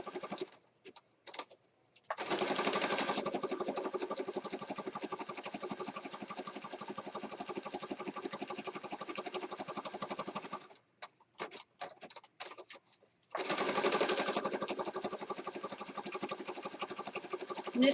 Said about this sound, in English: I'm just zigzag stitching around where the carnation is.